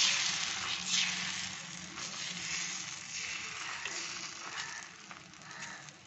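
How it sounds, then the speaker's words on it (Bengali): A thin egg parcel fries in a pan, giving a steady, close sizzle with light crackle throughout and no voices. "এরকমভাবে আমি ভেজে নিয়ে আসছি ফিরে।"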